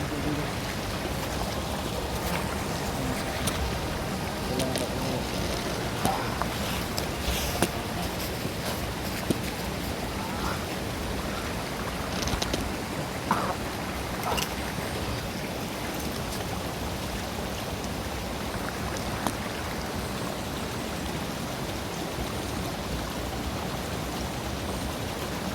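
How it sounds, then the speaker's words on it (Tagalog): Something being washed in a river by hand: steady flowing water with scattered splashes and small knocks, and faint voices now and then. "Hugasan ko lang dyan sa may ilog."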